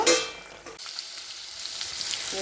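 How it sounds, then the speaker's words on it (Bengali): Cauliflower florets fry in a pan with salt and turmeric, giving a steady close sizzle that bursts loudly at first and then settles into an even hiss. "ফুলকপিগুলো একটু ভেজে নিচ্ছি"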